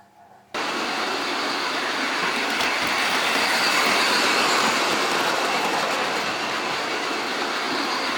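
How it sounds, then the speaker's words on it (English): Bachmann G scale toy train locomotive from the Night before Christmas set running on its track, giving a loud, steady, dense rushing rumble with a fast mechanical chug that starts abruptly after a brief quiet moment and continues unbroken. "as the locomotive speeds up, the chug sound speeds up"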